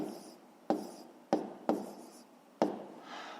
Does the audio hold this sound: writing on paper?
yes